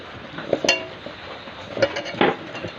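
Grated coconut being mixed with nakuldana sugar drops and batasha sugar candies in a bowl for chhatur naru sweets: irregular light clinks and scrapes of a utensil against the bowl, close and moderately loud, with no talking.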